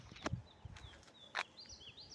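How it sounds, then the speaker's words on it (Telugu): Birds in a mango tree beside a village pond and farm give faint, quick chirps and short whistled notes scattered over a quiet rural background. "మామిడి చెట్టు మీద పక్షులు,"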